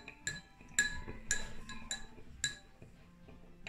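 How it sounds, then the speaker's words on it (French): A metal spoon stirs salt into water in a glass, giving a run of bright, close clinks that repeat at an uneven rhythm about every half second against a quiet room. "On va mélanger avec une cuillère."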